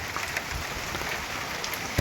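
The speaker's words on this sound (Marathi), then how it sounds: "रिमझिम रिमझिम हा पाऊस चालूच आहे" Light drizzle falls under heavy, cloudy skies, a soft, steady hiss of fine raindrops pattering on surfaces with no voices.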